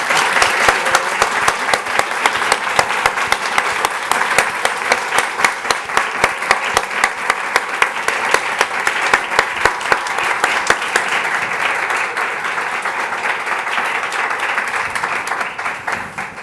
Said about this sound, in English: Please join me in applauding.